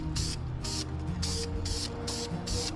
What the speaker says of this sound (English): We're gonna start spraying it.